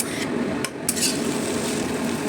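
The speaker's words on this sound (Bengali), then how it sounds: "এবার এর মধ্যে ভেজে রাখা ফুলকপি আর আলু দিয়ে মশলার সাথে ভালো করে মিশিয়ে দেব" Fried cauliflower and potato are mixed with spices and a little water in a pan, a dense, steady hiss of cooking with a few clicks and knocks of the stirring utensil, no talking.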